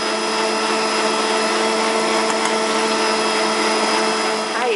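An electric mixer whips meringue for a lemon tart while sugar goes in a little at a time, giving a loud, steady, continuous motor whir that stays even throughout with no talking over it.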